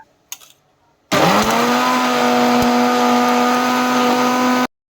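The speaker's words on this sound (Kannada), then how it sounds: "ಹಾಗೆ ಕೊಬ್ಬರಿನ ಹಾಕಿ ಮಿಕ್ಸಿ ಮಾಡ್ಕೊಳ್ಳೋಣ" A kitchen mixer grinder whirs loudly and steadily for several seconds, grinding ginger, garlic and coconut, its motor spinning up abruptly after a brief quiet start and cutting off sharply at the end.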